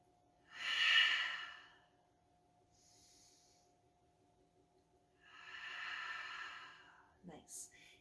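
Two slow, deep breaths during a yoga flow, each a soft rushing inhale or exhale heard up close with a quiet pause between them.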